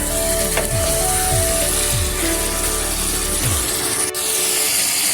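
Meat searing in a pan while being cooked down with spices: a loud, dense sizzle fills the whole moment, broken by a few scraping stirs and clinks, close up with no talking.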